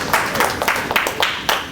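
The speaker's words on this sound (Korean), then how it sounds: "박수 한번 주세요" Audience applause during a history lecture for youth at a Korean school in the Philippines, a steady patter of many hands clapping at moderate distance, continuous with no voices over it.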